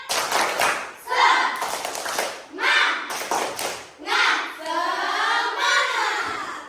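A classroom of children does the tepuk semangat spirit clap, bursts of rhythmic hand clapping and chanting voices in short repeated phrases, close and lively.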